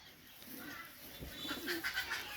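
Pigeons coo softly in a loft where young teddy pigeons are kept, with several low, rounded calls rising and falling over a steady background hiss, growing a little louder toward the end.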